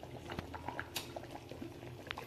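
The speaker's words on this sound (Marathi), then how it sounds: "आता फक्त एक उकळी येली की ते आपण थांबवूया" A pot of clam curry with potatoes simmers close by, soft irregular bubbles popping and gurgling at a gentle boil, quiet and without talk.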